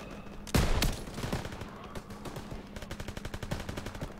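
Rapid machine gun fire in the Call of Duty: World War 2 video game, with one loud burst near the start and then a long stream of fast, steady shots that stays loud throughout.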